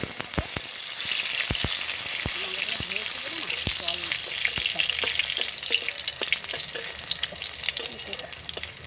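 Dried red chilies sizzle in hot mustard oil in a kadai on a stove, a steady close hiss broken by small crackles and pops, with a voice talking underneath.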